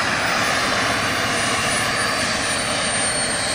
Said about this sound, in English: Look at that thing taxiing like a freaking stallion.